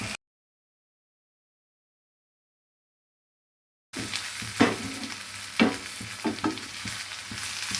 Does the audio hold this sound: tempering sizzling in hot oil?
yes